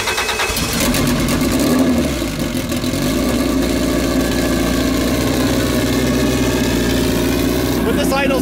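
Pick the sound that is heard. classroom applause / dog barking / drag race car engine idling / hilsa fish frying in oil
drag race car engine idling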